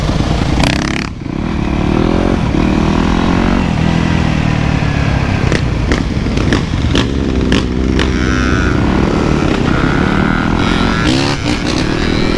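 A two-stroke dirt bike engine revs loud and close with steady rising and falling throttle, with clattering and scraping knocks over the top, as if the bike is being handled or dropped.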